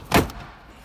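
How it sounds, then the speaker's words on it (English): A single sharp pop of a plastic trim clip releasing from the rear sliding door panel of a Honda Odyssey, close and brief, followed by quiet handling. "with two hands, you wanna pull out on this cup holder directly towards you"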